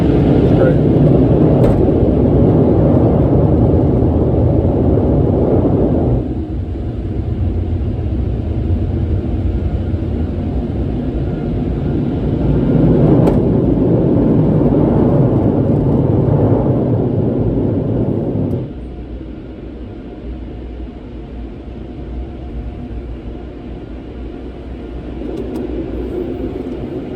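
Loud roaring car wash blower fans at close range on a 2011 Nissan Titan pickup, a heavy rumbling rush of air that swells and drops back a couple of times.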